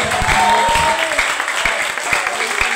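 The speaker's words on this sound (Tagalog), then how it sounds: "Ato abing kusgo na itong palakpak para sa Ginoo." A church congregation claps for the Lord, a lively burst of many hands with a few sharper individual claps and some voices mixed in, strongest at the start and tapering slightly.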